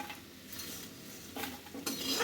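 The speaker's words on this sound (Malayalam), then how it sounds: "ചെമ്മീൻ ആദ്യം വറുത്ത് കോരി മാറ്റുക" Dried shrimp crackle in hot oil as a spoon stirs and scrapes the pan, a quiet, close sizzle with a few louder scraping bursts toward the end.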